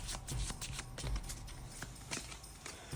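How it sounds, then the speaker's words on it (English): Deck of board game cards for a Cthulhu Death May Die game being shuffled, quiet close riffling and soft taps coming in short repeated bursts over a few seconds. "Let's give these a quick shuffle here."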